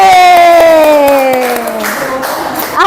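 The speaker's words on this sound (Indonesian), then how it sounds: "Tepuk tangan buat Membawi." Applause and light cheering from a crowd, heard under a sustained descending tone with overtones fading away.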